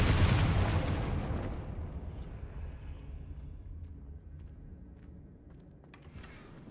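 A Confringo explosive spell in Hogwarts Legacy goes off with a loud, booming burst right at the start, then rumbles and fades over several seconds. A faint crackle follows near the end.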